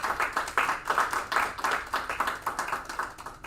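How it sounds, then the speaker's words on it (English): A small group claps at a school board meeting, a brief round of applause with uneven, fairly soft hand claps that rise and fall for a few seconds. "Let's give Ms. Lee a round of applause."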